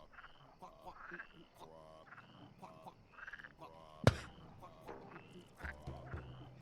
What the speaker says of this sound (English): You guys hear those frogs singing?